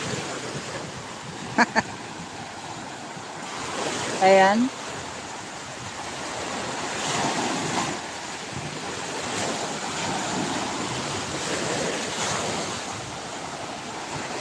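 Sea waves breaking on the shore at Balogo, Pasacao, a steady roar of surf mixed with wind buffeting the microphone throughout, with a brief spoken word and a short tonal sound near the start.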